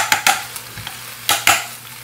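Metal tongs tap against a frying pan while beef sizzles, giving several sharp, close clacks in an uneven rhythm over a soft, steady fry.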